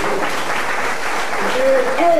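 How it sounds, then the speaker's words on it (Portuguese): Church congregation applauding, a broad wash of many hands clapping under a preacher's voice that continues speaking over it. "Palmas para o Senhor Jesus."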